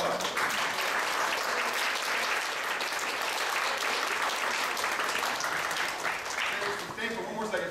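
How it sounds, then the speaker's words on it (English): Sustained applause from a large crowd, dense and steady throughout, with no break. "Let's give them a round of applause."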